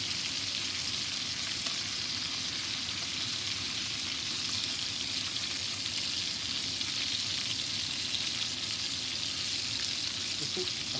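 Salmon fries in a pan with a steady, dense sizzle and crackle that holds evenly throughout, close and moderately loud with no talk.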